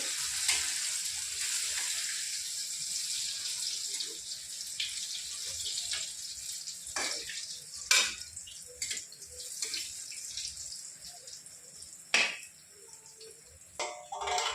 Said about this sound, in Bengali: এবার বড়াগুলো উল্টো পাল্টে একটু ভেজে নেব